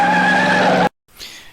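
A Plymouth Satellite skids with a loud, steady tire squeal and engine roar before a stunt jump, cutting abruptly to silence, then a fainter swishing sound returns.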